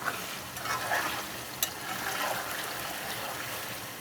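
Beef fat renders in a pan over a high flame, a soft, steady sizzle and bubbling with a faint tick or two, no voices.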